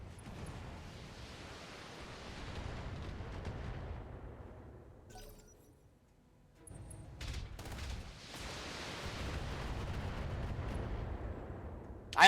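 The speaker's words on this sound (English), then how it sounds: "They're still laying down artillery fire." An artillery barrage in the Battletech video game: long rumbling waves of heavy fire and explosions, fading to a lull midway before a second sustained roar builds up again.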